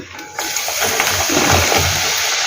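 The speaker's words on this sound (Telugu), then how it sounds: "మళ్ళీ నూనెలో మళ్ళీ పల్లీలు వేసేసుకుందాం" Peanuts dropped into hot oil for peanut pakoda, giving a loud, steady hissing sizzle and spatter that starts abruptly and continues alone, close by.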